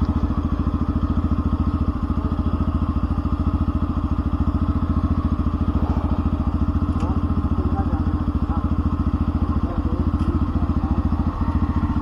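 A group of motorbikes rides along with a continuous close engine drone and a steady throbbing rhythm, with occasional thumps and rattles over the road and no clear talk.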